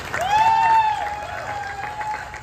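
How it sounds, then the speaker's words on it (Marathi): Audience clapping for award winners at a gym's grand opening, a moderate steady applause beneath a sustained whistling, feedback-like tone that rises and then fades. "खरंच जोरदार टाळ्या तिघांसाठी आपण वाजूया."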